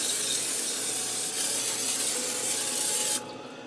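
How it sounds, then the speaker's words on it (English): Canola oil spray hisses from a can onto a 9x13 baking pan in one continuous close burst lasting about three seconds, then cuts off abruptly. "I'm going to spray it with a little bit of canola spray oil."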